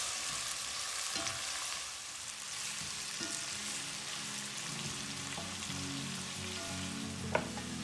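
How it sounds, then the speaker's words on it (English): Onions fry in a pan for vegetable pilau rice, giving a steady close hiss and sizzle with occasional scraping and clinks of stirring and no voices. "Give it a stir and cook the onions for about 2 to 3 minutes."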